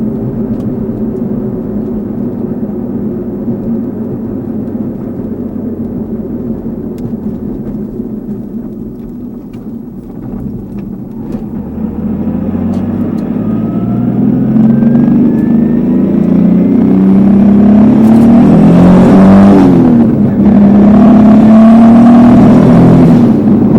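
A Lexus IS300 street car with a swapped R154 manual gearbox revs up hard, rising in pitch through the gears with brief dips between shifts, loud and steady throughout.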